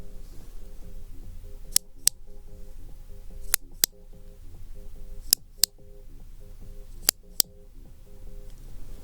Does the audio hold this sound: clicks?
yes